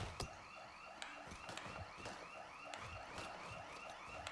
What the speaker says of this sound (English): Y'all hear that alarm going off?